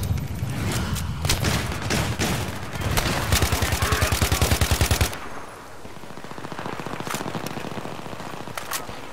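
A burst-fire rifle goes off in the Battlefield 3 video game, loud rapid bursts of shots in quick rhythmic runs, then a pause and lighter, more distant bursts follow in the background.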